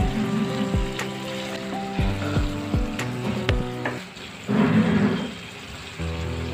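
A spoon stirring in a pan after cumin powder and a little sugar are added, scraping and clinking several times in a row over a soft background sizzle.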